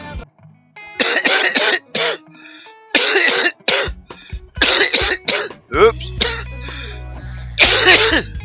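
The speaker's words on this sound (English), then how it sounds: "end up coughing" A person coughs repeatedly in harsh, close bursts, clustered in uneven fits with short pauses and some throat clearing, loud and dry against a quiet room.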